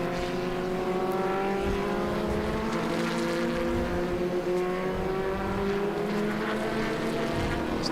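Formula Ford race cars in a tightly bunched pack at a classic motor racing meeting, their engines droning loudly and steadily as they sweep past, with rising and falling engine tones layered over one another and no talk.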